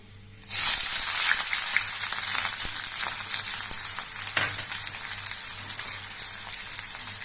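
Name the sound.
frying onion, green chili and garlic in a wok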